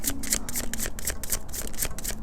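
Tarot cards being shuffled by hand: a steady run of crisp riffling, flapping bursts, close and continuous, with no talking over them.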